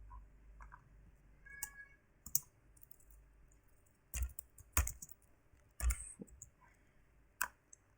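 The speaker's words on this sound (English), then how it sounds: "So we have to type this on ChatGPT." Typing on a computer keyboard, heard as sparse, quiet clicks and key taps in irregular bursts, with a few sharper strikes, alone in a quiet room.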